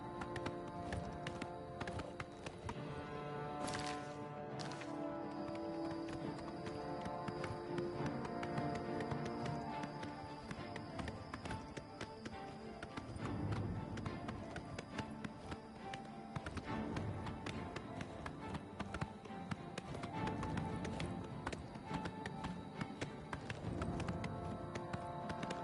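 A black horse gallops in Oblivion Remastered, its steady rhythmic hoofbeats pounding continuously and close over a dense backdrop of game music and ambience, with no talking.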